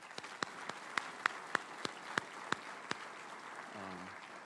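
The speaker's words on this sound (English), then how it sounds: "can we give all these presenters another round of applause?" A small conference audience applauds presenters at a general session with sparse, distinct handclaps that thin out and fade after a few seconds, fairly quiet.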